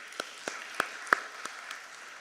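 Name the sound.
conference audience applause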